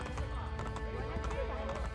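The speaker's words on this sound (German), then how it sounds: "Und man kann ja Gott sei Dank ein Pferd benutzen." Horse hooves clip-clopping at a steady trot in Assassin's Creed, a continuous rhythmic patter of hoofbeats running through a busy game soundscape for a couple of seconds.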